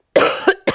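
A single person coughs in a quiet indoor room: a harsh burst followed by two shorter coughs, close to the microphone and loud, with no other sound around it.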